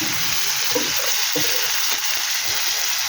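Turmeric powder frying in hot oil in a pan, giving a steady, close sizzle with a few soft stirring scrapes.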